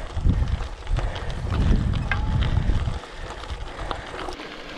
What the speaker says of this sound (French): On a un peu de vent mais c'est léger quoi.